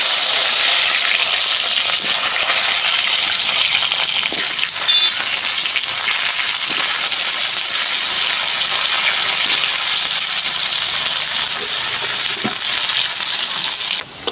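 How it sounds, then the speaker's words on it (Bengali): Taro (kochu) pieces frying in hot oil in a pan while fish is cooked, a loud, steady, dense sizzle that continues unbroken throughout, with no talking. "কচুগুলো আগে ভেজে নেব।"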